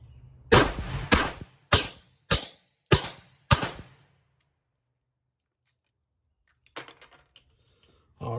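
Six sharp, loud revolver shots from a Chiappa Rhino 50DS ring out at an outdoor range in wet weather, fired at a steady pace of roughly one every half second, followed by quiet and faint distant pops.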